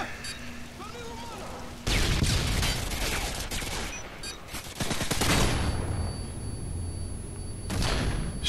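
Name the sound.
gunfire in video game Call of Duty: Modern Warfare 2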